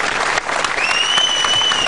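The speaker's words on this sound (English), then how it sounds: "Listen to the appreciation of the crowd here at Castle." A crowd at a boxing match applauds in a steady, dense patter of clapping that carries on throughout.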